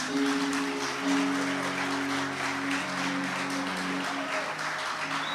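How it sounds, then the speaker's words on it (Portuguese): A church congregation applauds together, a sustained wash of many hands clapping at moderate distance, steady throughout, with a faint tonal hum of music or organ sustained underneath. "Dê um aplauso ao Senhor."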